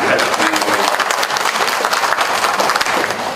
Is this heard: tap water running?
no